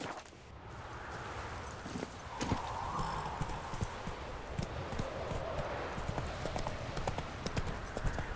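Rapid hoofbeats of a galloping horse in The Witcher 3 video game, steady and continuous over a busy wash of game background noise.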